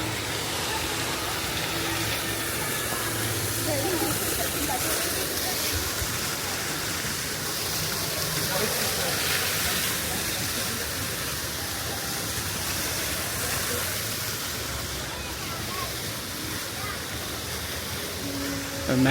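Large fountains at a theme park splash steadily, a broad, even rush of falling water holding at moderate level throughout with no talk.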